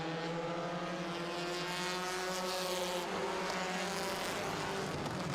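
Sport compact race cars rolling off for a six-lap heat race at Owosso Speedway, their engines a loud, continuous droning roar that holds steady throughout with no pauses.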